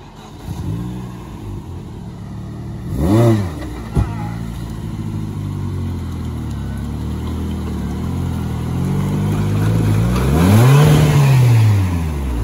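An off-road UAZ or Niva drives through a forest, its engine droning steadily and revving up sharply twice, loudest near the end, with faint voices now and then.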